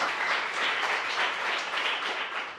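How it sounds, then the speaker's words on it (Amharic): Warm applause for students at a school ranking ceremony, a dense steady burst of many hands clapping for a few seconds, fading slightly at the end. "ሞቅ ያለ ጭብጨባ።"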